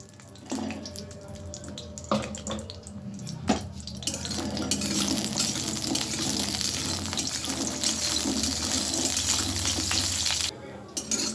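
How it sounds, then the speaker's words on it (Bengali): Bori lentil dumplings fry in hot oil in a kadai, a steady broadband sizzle running close and continuous after a few sharp clinks of utensils at the start. "দিয়ে আমি বড়িগুলো ভালো করে ভেজে নেব"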